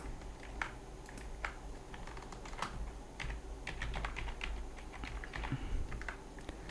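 Quick, irregular bursts of typing on a computer keyboard, soft clicky keystrokes heard close and alone against a quiet room hum.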